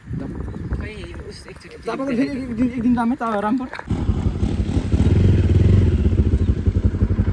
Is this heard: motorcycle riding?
yes